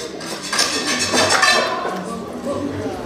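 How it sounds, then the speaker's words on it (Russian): A spoon scrapes and clinks against a plate of food, with several close metallic scrapes and taps over a few seconds. "начинает шкрябать ложкой."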